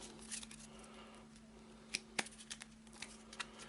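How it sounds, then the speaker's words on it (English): A deck of cards for a tabletop board game is shuffled nearby, giving quiet papery riffles and a few sharp clicks of cards snapping together, heard alone. "Give it a shuffle and see what encounter we get."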